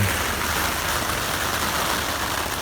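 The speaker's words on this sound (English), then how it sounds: "Because it's raining hard, isn't it?" Heavy rain drums on a tent in a dense, steady hiss on a close surface, continuous and unbroken with no voices.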